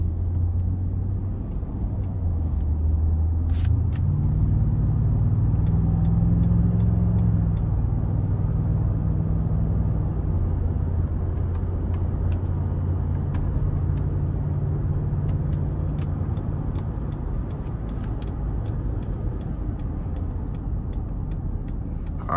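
A 2020 Ford F-150 King Ranch pickup with a 3.5-litre twin-turbo V6 accelerates in sport mode, heard from the cab: a low engine rumble that rises, then settles into a steady drone, with faint clicks over it and no talk.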